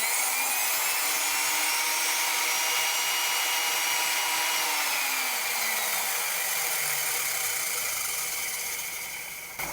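A 1950s Milwaukee HS-114 Hole Shooter quarter-inch heavy-duty non-reversing electric drill runs with its trigger locked on, making a steady, loud motor whine with a high hum that slowly drops in pitch toward the end, without talk.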